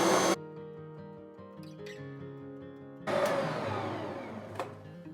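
An electric hand mixer whips cream into soft peaks for waffles, a steady motor whine under which the pitch shifts and then rises louder and coarser, fairly close.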